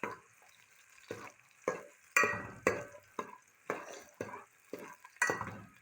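Chopped onions being stirred and fried in a pan for a potato and eggplant dish, close rhythmic scraping strokes about every half second over a soft sizzle.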